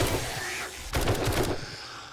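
Gunfire against zombies during a 7 Days to Die horde night, a quick burst of several sharp shots in rapid succession over a low game background, moderately loud and a little distant.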